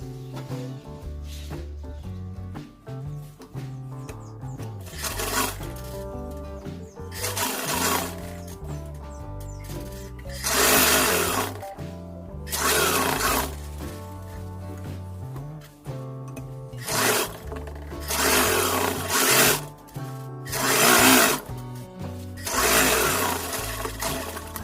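A sewing machine stitches the seat seams of a men's elastic-waist pajama, running in repeated close bursts of rapid rattling with pauses and fabric handling between them.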